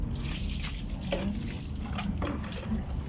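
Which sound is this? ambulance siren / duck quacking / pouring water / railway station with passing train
pouring water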